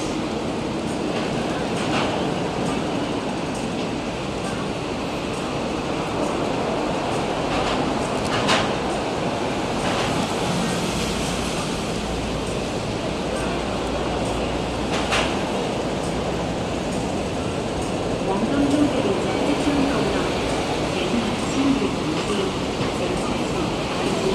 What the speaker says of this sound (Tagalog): Arriving na yung train, guys.